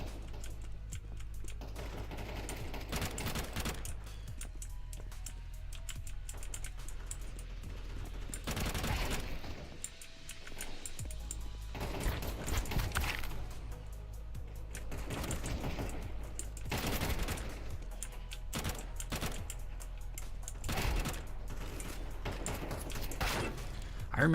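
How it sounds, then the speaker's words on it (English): Rapid FAMAS rifle fire in Counter-Strike 2 deathmatch, repeated bursts mixed with steady keyboard and mouse clicking, heard beneath a continuous game soundscape. "I remember this gun, this gun I'm using. It's called the FAMAS."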